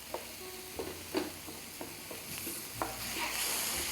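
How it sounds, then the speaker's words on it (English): Chili powder, oregano and smoked paprika are stirred around a pan, with a steady low sizzle under repeated scraping strokes of a spoon, close and moderately loud. "Let's stir that around a bit."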